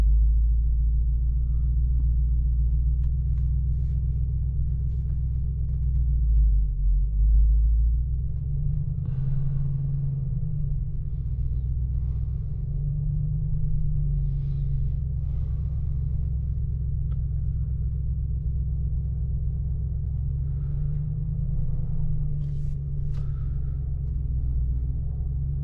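A 2023 Mercedes-AMG G63 crawls forward in low range with its differential locks engaged, giving a steady, deep, loud engine rumble that swells slightly now and then and carries no voices.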